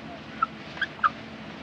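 A chicken gives three short, faint clucks spaced apart over a quiet, low background hiss in an old 1955 Indonesian film soundtrack.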